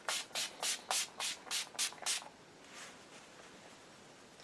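A small bottle of Urban Decay All Nighter makeup setting spray is shaken in eight quick, even strokes, a rattling swish close by, then fades to quiet.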